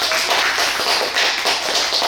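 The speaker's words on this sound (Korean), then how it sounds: "관객님들, 독자님들께 다시 한번 큰 박수 부탁드립니다" Audience at a humanities lecture and book concert gives sustained, steady applause, a dense wash of many hands clapping throughout with no talk over it.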